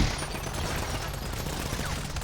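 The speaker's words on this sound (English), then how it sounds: "Got some asshole shooting" Automatic gunfire in a roleplay-server video game, a continuous rapid rattling burst held under a steady low drone, fairly distant and even in level, no talk.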